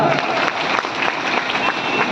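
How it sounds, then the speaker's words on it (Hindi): A crowd at a World Tribal Day gathering in Nainpur, Mandla district, bursts into loud, continuous clapping for the chief guest, a brief dense roar of applause that holds steady throughout. "सम्मानीय एक बार जोरदार ताली।"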